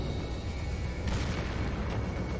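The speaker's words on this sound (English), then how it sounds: "there's explosions going off behind me" Explosions in the video game Resident Evil 4, a muffled boom rising briefly out of a steady, noisy game background, distant rather than close, with no speech.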